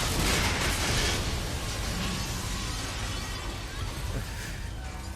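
A loud explosion in the Mass Effect 2 video game opens with a dense roaring burst that slowly decays into a sustained rumbling wash of debris noise.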